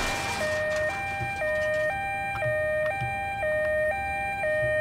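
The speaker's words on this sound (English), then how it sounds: "I'm probably going to look into turning off that siren" Ambulance siren in the video game Ambulance Simulator: a two-tone electronic wail switching evenly between a high and a low pitch about twice a second, steady and prominent over faint low engine rumble, with no talk.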